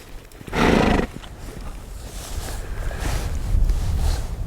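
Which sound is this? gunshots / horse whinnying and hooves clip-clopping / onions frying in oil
horse whinnying and hooves clip-clopping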